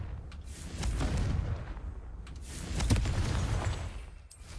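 Confringo blasting spells fired in Hogwarts Legacy, heard as rumbling booms and bursts with sharp cracking transients, a few explosions layered over a continuous low roar, fairly loud throughout with no talking.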